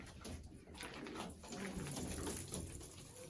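Racing pigeons cooing in a home loft, soft low coos close by over a light background hiss.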